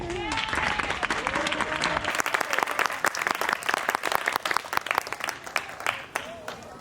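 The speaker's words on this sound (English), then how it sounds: "So give them a round of applause to second grade." An audience applauds a second-grade class's Three Little Pigs performance loudly and steadily for several seconds, with a voice speaking over the clapping at the start.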